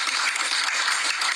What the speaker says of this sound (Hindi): केवल जोरदार ताली बजा